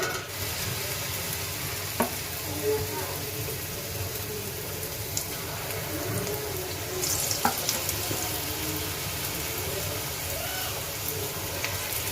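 Besan pitha batter cakes fry in hot oil with a dense, continuous close-up sizzle, broken by a few faint utensil taps and light stirring scrapes, no talking.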